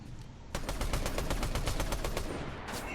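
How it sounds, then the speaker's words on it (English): Rapid automatic gunfire in Fortnite, a steady burst of about a dozen sharp, evenly spaced shots lasting roughly two seconds, loud and close, with no voices. "Now he starts shooting at me from behind"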